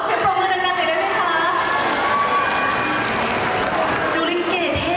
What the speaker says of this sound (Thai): ขอบเชิญปรบมือดังๆเลยได้ไหมคะ